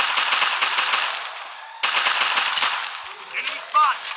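Rapid video game gunfire as a player shoots at bots, dense bursts of automatic shots filling the first half, a brief break, then more firing that thins out toward the end.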